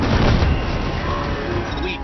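A walker in the video game Destiny 2 explodes in a deep booming blast with gunfire-like crackle. The boom is loudest at the start and rumbles on afterward.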